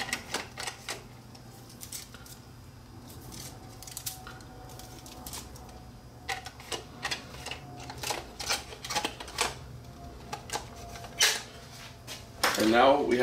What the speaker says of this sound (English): So we'll just thread the tape back into the cassette.